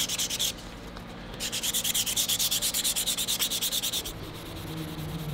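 A knife blade is hand sanded with 000 steel wool in fast, rhythmic back-and-forth scrubbing strokes, close and steady, after a short pause, then trailing off into a softer rub.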